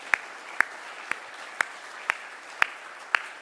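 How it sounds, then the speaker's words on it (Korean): A church congregation claps together in encouragement during a Sunday morning service, giving seven sharp, evenly spaced claps about twice per second in a steady unison rhythm, with no talking. "우리 유튜브에서 예배하는 분들 위해서 힘내시라고 우리 격려의 박수 주시기 바랍니다"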